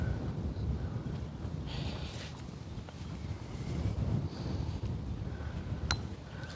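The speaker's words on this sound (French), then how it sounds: "Un petit vent, mais qu'est-ce qu'il est agréable." Gentle wind rushes steadily on a golf course, a soft low buffeting against the microphone with faint scattered ticks and rustles.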